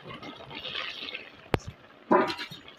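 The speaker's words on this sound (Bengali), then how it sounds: "এবার দিয়ে দেবো একটুখানি শিল ধোয়া জল," Water from rinsing a grinding stone poured into a pan of prawns and spice paste, two short splashing pours over a faint background hiss, close, with a sharp click between them and no talk.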